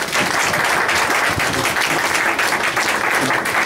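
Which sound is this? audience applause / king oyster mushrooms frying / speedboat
audience applause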